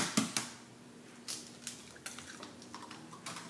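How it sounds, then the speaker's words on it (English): Eggs cracked one after another against the rim of a bowl for a banana pudding cake batter, several sharp close taps and clicks spaced through a quiet kitchen with no talk. "I'm going to add my 3 eggs."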